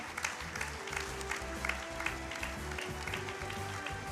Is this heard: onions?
no